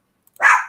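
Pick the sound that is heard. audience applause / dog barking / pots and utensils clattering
dog barking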